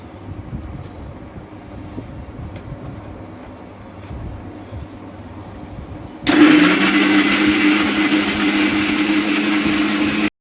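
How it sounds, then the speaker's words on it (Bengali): A kitchen mixer grinder grinds garlic, onion, ginger, cumin and green chilli into a spice paste. It switches on abruptly after a quiet stretch of faint background sound, then runs as a loud, steady motor whine until the end. "মশলাটা আমি চাপিয়ে দিচ্ছি মেশিনে"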